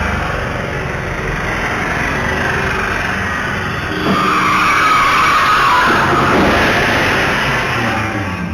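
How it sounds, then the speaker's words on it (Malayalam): A car that lost control strikes a bike and crashes into a shop: steady traffic rumble, then a louder burst of skidding and impact noise midway that stays raised to the end, with no talk. "നിയന്ത്രണം നഷ്ടമായ കാർ ഒരു ബൈക്കിനെ ഇടിച്ചതിന് ശേഷമാണ് കടയിലേക്ക് ഇടിച്ചു കയറിയത്."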